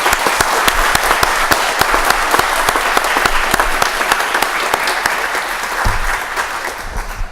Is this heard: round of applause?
yes